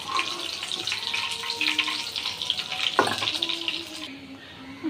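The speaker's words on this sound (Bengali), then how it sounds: "পটলগুলো লাল লাল করে ভেজে নেব।" Pointed gourd (potol) sizzles steadily in hot oil in a pan, with an even crackle broken by a few soft clinks.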